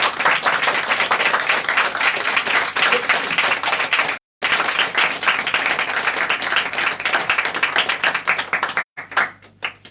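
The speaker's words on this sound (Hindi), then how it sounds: "परमेश्वर के लिए जोरदार तालियां हो जाए।" Loud congregational applause at a Hindi Christian worship service: dense, continuous clapping from a large crowd fills the whole stretch, broken only by two brief cut-outs.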